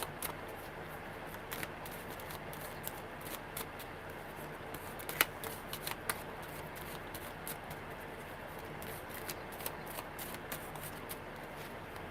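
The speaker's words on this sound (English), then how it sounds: "I just kind of go off in trance now with the cards when I'm shuffling" Tarot cards being shuffled by hand, a faint, close series of soft riffling clicks and brushing taps spread irregularly over a quiet background, with one sharper snap midway.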